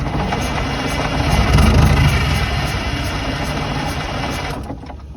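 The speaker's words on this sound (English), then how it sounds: "we do know now that the engine does run, doesn't have any death rattles or anything" An old Detroit diesel engine in a tour bus runs steadily with a loud, rough idle and a vibrating hum, swelling briefly before cutting off near the end.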